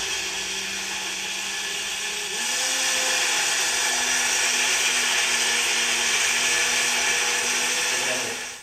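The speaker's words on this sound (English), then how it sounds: "Now that it's pureed, I'm going to just adjust and taste the season for final seasoning." Immersion blender purees hot mushroom soup with a continuous close motor whine that steps up in pitch partway through and holds steady, churning the liquid until it cuts off at the end.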